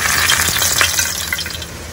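Prawn paturi parcels frying in oil in a wok, a loud, close, continuous sizzle with bursts of spitting and a few stirring clatters, no voices.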